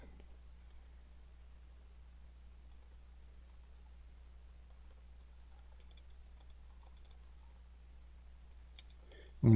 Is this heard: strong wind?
no